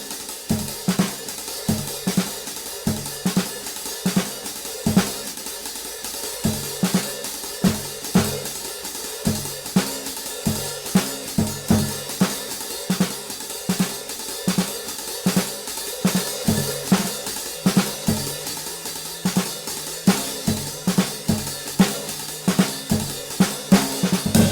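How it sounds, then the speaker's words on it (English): An up-tempo jazz drum time pattern, with a half-open hi-hat washing steadily over fast bass drum and snare accents, driving and continuous. "he plays the up-tempo time pattern on a half-open hi-hat."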